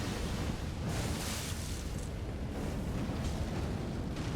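Magma sorcery in Elden Ring: Shadow of the Erdtree, filling a hall with fire and explosions: a dense, continuous roar of rumbling blasts and crackling flames, loud and sustained with faint swells throughout.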